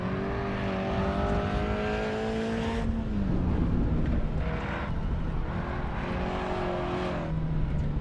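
Engine of a car in a racing video game drones and revs steadily, shifting pitch as it accelerates and downshifts through a corner, loud and continuous with no talking.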